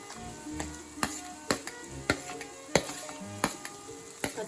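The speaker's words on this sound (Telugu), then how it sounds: "పచ్చిమిర్చి వేసుకున్న తర్వాత బాగా వేగండి" Green chilies frying in a pan, with a soft sizzle underneath and sharp spatula taps and scrapes at roughly half-second intervals, close and clear, with no talk.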